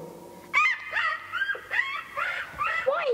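A dog whimpers and whines at a door in an audiobook drama, several high, wavering cries rising and falling in close succession, with faint scuffling underneath.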